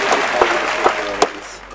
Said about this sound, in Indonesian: Mari kita tepuk tangan dulu untuk kita.